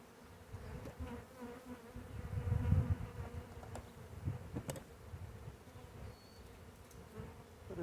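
A close, dense buzzing of many honey bees from a swarm during a hive inspection swells and fades, a low insect hum with occasional sharper buzzes passing near.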